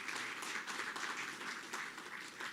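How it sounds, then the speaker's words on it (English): Audience applause at a matric results announcement event, a steady wash of clapping from a crowd lasting the whole stretch, fairly even in loudness with no speech over it. "Let's give Ntsika a big hand of applause"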